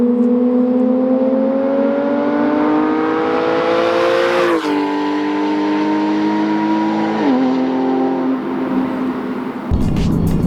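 TechArt-tuned Porsche 911 GTS (991) with aftermarket exhaust and tune accelerating hard through the gears, loud rising engine note broken by quick upshifts, ending in a brief crackle.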